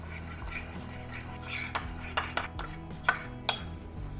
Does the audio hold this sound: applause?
no